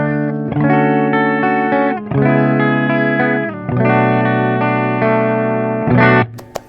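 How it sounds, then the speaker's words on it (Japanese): Electric guitar plugged straight into the effects return of a Marshall amp, bypassing the preamp, rings out in three loud sustained chords with brief gaps, then a short final strum and a few faint clicks. "一旦ちょっとこの直接ギターをリターンに挿した音いってみましょうか"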